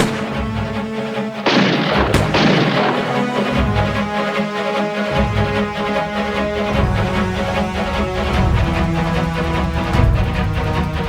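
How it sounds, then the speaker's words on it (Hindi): Gunfire in an Indian TV crime drama, with loud booming shots that ring out sharply and then give way to a dense, continuous dramatic soundtrack. "ए, गोली चला रहे!"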